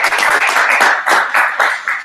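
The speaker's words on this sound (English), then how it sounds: "You can give a lot of applause." A small group claps for a speaker at a tech forum, close and fairly loud, with distinct rhythmic bursts of hand claps across a couple of seconds.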